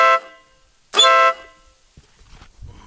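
A Stebel Nautilus air horn fitted to a Suzuki M109R motorcycle gives two loud, close blasts, a brief first toot and then a longer sustained blare, followed by quiet handling noise.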